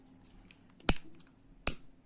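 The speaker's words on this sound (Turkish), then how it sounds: "ipimi uzuncana kesiyorum" Scissors snip through nylon cord during a crochet project: two sharp, close cuts about a second apart, with soft faint clicks in between and otherwise quiet.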